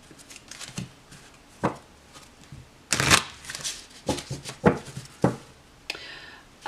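Oracle cards being shuffled by hand: a series of close, crisp riffling bursts, some short and some longer, separated by brief pauses, with no talking.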